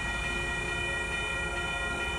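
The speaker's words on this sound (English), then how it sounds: "Oh, there comes the southbound train." Southbound Union Pacific mixed freight train passing at FM 1626 in South Austin, Texas: a steady, loud rumble of rolling cars with sustained tonal squeal, continuous throughout.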